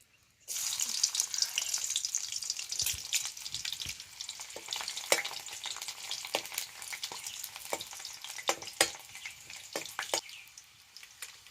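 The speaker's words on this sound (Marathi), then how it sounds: "प्रथम आपण आता हा लसूण घालणार आहोत फोडणीमध्ये" Garlic dropped into hot oil for a Malvani fish curry tempering sizzles loudly and continuously, with sharp crackling pops and bursts scattered through the hiss, close by and with no talking.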